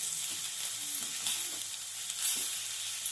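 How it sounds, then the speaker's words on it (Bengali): Rice frying with spices in a pan, a steady close sizzle with a few soft stirring scrapes, no voices. "এবার সমস্ত মশলার সঙ্গে চালটাকে একটু ভালো করে ভেজে নেব"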